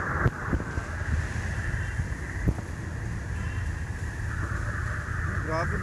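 Strong wind from Typhoon Uwan battering Palmag del Sur in Catanduanes, a steady loud roaring rush with gusts, under a voice speaking nearby throughout.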